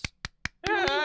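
Three sharp, evenly spaced hand claps ring out close and loud, then a voice starts up, with a fourth clap landing under it.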